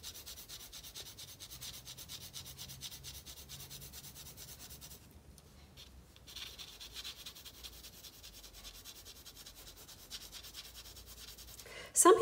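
A graphite pencil hatches a shaded sphere on paper, producing faint, rapid, close scratchy strokes in a steady rhythm, with a brief pause midway.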